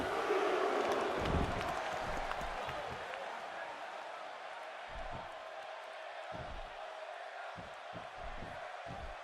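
Arena crowd cheering in the WWE 2K16 wrestling video game: a continuous roar of crowd noise at steady volume, with short louder bursts and game commentary over it.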